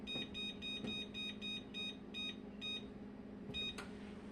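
Oven control panel beeps in a quick regular series as the temperature is set to 400, each short electronic tone evenly spaced, with a final pair of beeps after a pause, faint against a low room hum.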